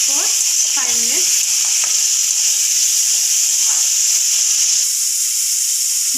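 Oil heating in a pan on medium flame before bitter gourd chips go in gives a steady, even sizzling hiss throughout, with a few brief light clinks near the start.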